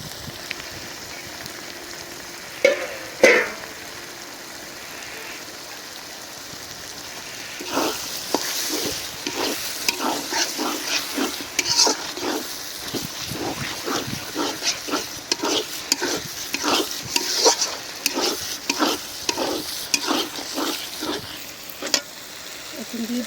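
Brain sizzles and is stirred in a pan with potato, the frying hiss interrupted by repeated scraping stir strokes in a fairly regular rhythm, close and moderately loud.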